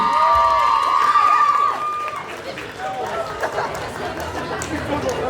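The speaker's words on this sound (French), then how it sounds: "On applaudit très fort Izumi." An audience at a cosplay contest on stage applauds and cheers loudly for a performer, a dense wash of clapping and shouts that stays strong before easing slightly, with some chatter mixed in.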